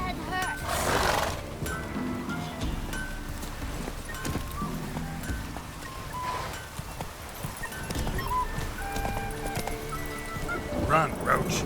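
Roach, Geralt's horse in The Witcher 3 game, neighs and whinnies loudly with hoofbeats clopping, set against a busy game soundscape and a voice talking through much of it.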